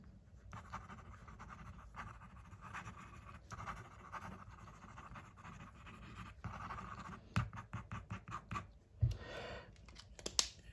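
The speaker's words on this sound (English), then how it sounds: "Fast writing." A Platinum Preppy fountain pen with an 02 nib scratches quickly across paper in fast writing, making faint, close, irregular strokes that grow a little busier and louder toward the end, with no talking.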